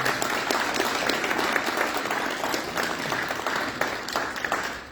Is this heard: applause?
yes